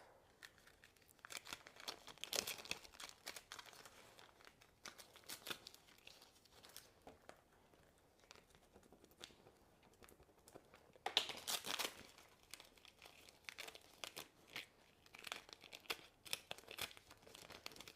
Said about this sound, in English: Take my little squeegee and peel